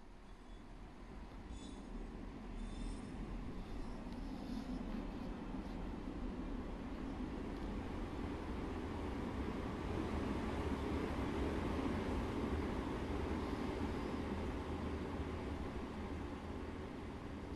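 A train pulls away from a platform in the Train Sim World 2020 game, a continuous low rumble of wheels and rail noise that builds slightly and holds steady, heard alone without speech.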